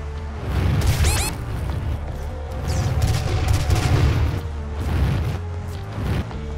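Rapid gunfire and booming blasts ring out in DOOM, a dense run of loud shots and impacts close together over several seconds, with no talk.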